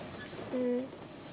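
The interior of a moving train carries a steady, close rumble, and a short hummed voice sound rises over it midway.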